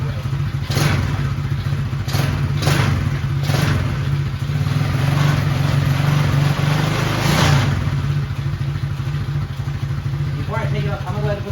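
A repaired quad ATV engine idles steadily and loudly after its battery is hooked up, with a constant low rumble and a few sharp knocks and clatters on top.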